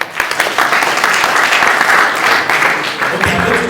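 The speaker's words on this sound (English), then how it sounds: "So as a youth here, please clap for yourself." Youth audience at a leadership symposium breaks into sustained, dense applause, many hands clapping together in a steady roar that swells and fades slightly, filling the hall.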